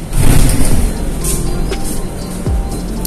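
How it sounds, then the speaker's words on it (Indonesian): Chinese-built Golden Dragon city bus running at night at a stop, a steady low engine rumble with road noise and a brief swelling pass partway through. "Ini kita menggunakan bus apa dari China namanya Golden Dragon ya."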